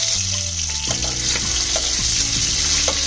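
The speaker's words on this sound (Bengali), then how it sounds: "তেলটা ভালো মতন গরম হয়ে ইলিশ মাছের মাথাটা একটু ভালো করে ভেজে নিতে হবে গরম তেলে" Hilsa fish head sizzling and crackling steadily in hot oil in a pan, with a continuous loud fry hiss and occasional spatters and stirring clinks throughout.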